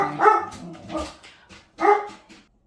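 A dog barks about three times at close range, with sharp, loud barks separated by short pauses and no voices.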